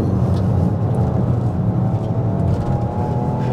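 Peugeot 208 GT PureTech 130 (2023) engine driving along at a steady, loud drone with road and cabin rumble, a slight shift in tone as the automatic gearbox changes gear partway through; no talk.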